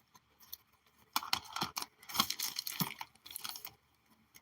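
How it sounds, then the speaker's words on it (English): Scissors cutting paper for a junk journal, a few close snips and crisp rustles in short bursts over near silence, no voices. "Let's cut this part off right here."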